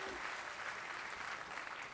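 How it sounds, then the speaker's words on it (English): Sustained applause from a large crowd at a professional bowling event in New Jersey, a standing ovation welcoming a favored bowler, dense steady clapping at moderate distance throughout. "Pete welcomed with a rousing standing ovation."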